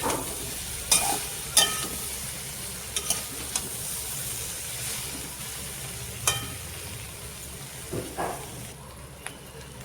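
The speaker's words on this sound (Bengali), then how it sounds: "আলুটা হালকা ভেজে নিব" Boiled potatoes shallow-frying in a pan for a cauliflower curry give a soft, steady sizzle close by, broken by occasional scrapes and clicks of stirring.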